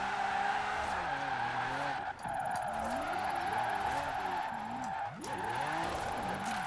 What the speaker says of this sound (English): I didn't really expect this thing to be this solid at holding the angle and actually sliding around, drifting.